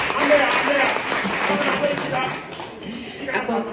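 Audience applause at a festival forum in Bamako honoring traditional communicators, a dense steady patter of clapping that carries throughout, with voices mixed in beneath it.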